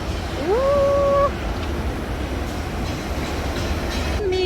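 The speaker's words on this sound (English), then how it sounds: "Oh, the trains here." A train passes in an old part of Sydney, giving a steady rumbling roll under street ambience, with a rising whistle-like tone near the start and a shorter tone at the end.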